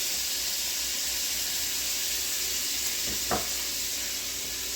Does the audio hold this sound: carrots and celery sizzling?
yes